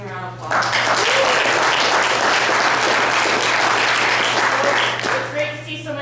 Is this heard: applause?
yes